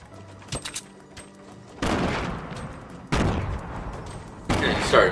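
Grenades exploding in the video game Fortnite, a few loud booming bursts with long rumbling tails spaced a second or so apart over faint game sounds.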